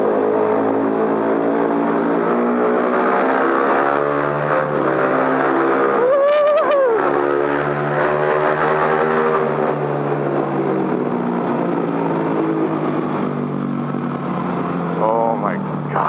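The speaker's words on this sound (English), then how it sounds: "the WR sounds like a freaking jet in here" A WR engine roars loudly and steadily indoors with a jet-like whine, its pitch sweeping up and down briefly partway through before settling into a sustained drone.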